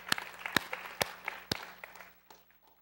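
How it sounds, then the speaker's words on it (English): Church congregation giving a clap offering during a Sunday service: a few sharp, separate hand claps ring out near the start, then a scattered patter of clapping thins and fades away, fairly quiet overall. "If you want to give a clap offering unto God,"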